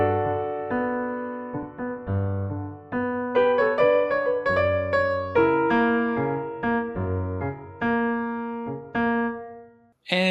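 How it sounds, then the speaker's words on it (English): Solo piano plays a syncopated, salsa-style bass line, with chords above it. The notes are clear and close, in rhythmic bursts, and end with a short final chord. "that's kind of like a salsa bass line, and it works really well to drive the tune forward, give it some feel, some energy"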